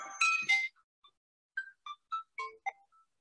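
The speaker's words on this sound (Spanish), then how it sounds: "Olvidé apagar el teléfono" A mobile phone's ringtone goes off during a lecture, playing a short sequence of bright, bell-like electronic notes that sound one by one with brief gaps between them.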